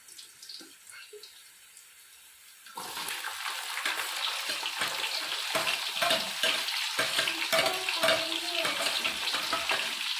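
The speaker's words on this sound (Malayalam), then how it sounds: "നല്ലപോലെ ഇളക്കി കൊടുക്കാം" Garlic sizzles in a hot pan while being stirred for a homemade beef pickle, a quiet hiss for the first few seconds that turns into louder, steady frying with scraping stir strokes.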